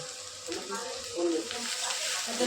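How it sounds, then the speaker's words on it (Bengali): Prawn heads frying in a wok with a pinch of salt added, a moderate steady sizzle with light stirring, fairly close and continuous. "ভাজার সময় একটু লবণ দিয়ে দিচ্ছি"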